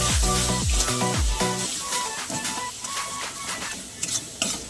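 Garam masala stirred into a pabda fish curry in a pan, with a spatula scraping in quick rhythmic strokes over a steady sizzle, close and fairly loud, with a few sharp clinks near the end.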